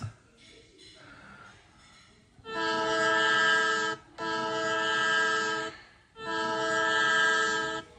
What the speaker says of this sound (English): honked a furious express train behind them